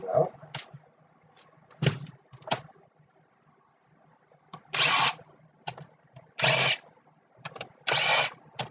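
Power screwdriver backing screws out of a computer keyboard being scrapped for precious metals, heard as several short whirring bursts close by, separated by quiet handling gaps.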